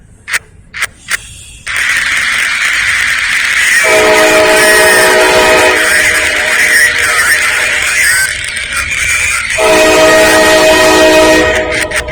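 An eastbound CSX freight train passing a downtown road crossing in Lynchburg, Virginia: a few sharp knocks, then a loud continuous rumble and roar of rolling cars with two stretches of a horn-like tone, heard close with no voices.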